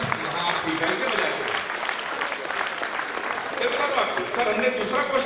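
Audience applause at a Hindi comic poetry gathering in Gorakhpur, a steady dense wash of many hands clapping that carries on evenly for several seconds with no voices above it.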